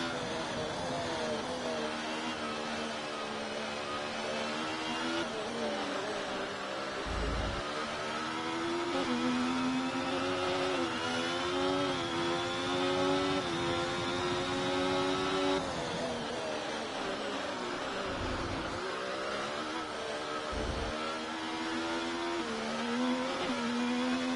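Kick Sauber Formula 1 car with a Ferrari engine racing in the F1 24 video game at the China sprint, a steady high engine whine that rises and falls through gear changes and stays loud throughout.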